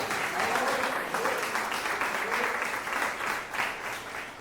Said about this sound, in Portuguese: Vamos dar uma salva de palmas para o Senhor nessa noite.